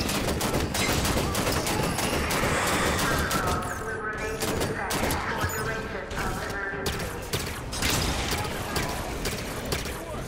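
Loud, continuous gunfire from the Halo 5 video game, bursts of rapid shots and impacts overlapping in a dense, busy battle mix with game music and effects underneath for the whole stretch.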